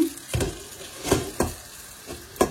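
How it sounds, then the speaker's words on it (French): Eggplant frying in a little oil with bell pepper crackles softly in a pan, punctuated by several sharp stirring clatters at irregular intervals over a low sizzle. "On a fait frire, j'ai fait frire un peu d'aubergine dans un peu d'huile"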